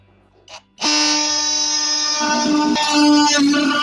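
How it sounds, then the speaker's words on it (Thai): A DCS353 oscillating multi-tool starts with a sharp mechanical whine and buzzes steadily for several seconds while cutting an opening, its tone shifting slightly as it bites into material. "ผมจะใช้ มันติทูลรุ่น DCS 353นะครับนี่นะในการเจาะช่องตรงนี้"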